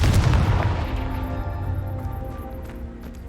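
A Confringo blasting spell detonates in Hogwarts Legacy with a deep, loud boom at the start, then a long rumbling decay that fades over a few seconds, with no talk.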